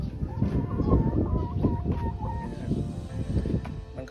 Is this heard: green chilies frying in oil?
no